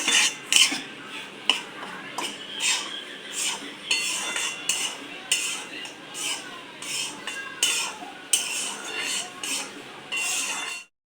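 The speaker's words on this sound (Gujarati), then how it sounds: "મમ્મીએ ઘીમાં કે લોટ નાખી દીધો છે અને આવી રીતે હલાવા રાખશે હલાવા રાખશે ગેસે મસ્ત લોટ અમારે શેકી નાખશું" A spoon repeatedly scrapes and clinks against a pan on a gas stove as flour roasts in ghee for sukhdi, making steady strokes with short pauses, close and fairly loud.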